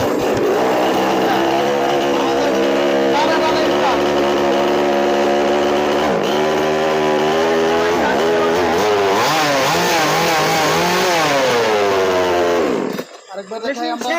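A petrol chainsaw engine starts and runs loudly for a sustained stretch, its pitch swinging up and down through the revving before it cuts off near the end.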